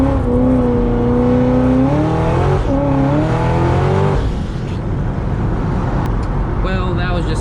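A 700-horsepower supercharged Corvette accelerates hard on a highway, its loud engine note climbing through the gears with shift breaks before settling into road and wind noise.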